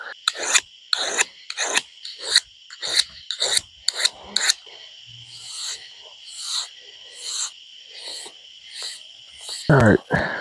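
A file drawn across a homemade bushcraft knife blade, giving repeated close rasping strokes, quick and clipped at first, then slower, longer pulls with short pauses between.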